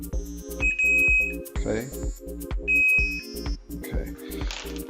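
A continuity checker beeps in repeated short tones while two mains fuses, phase and neutral, are tested on a QFLEX 400 110V/240V power supply, with brief speech in between.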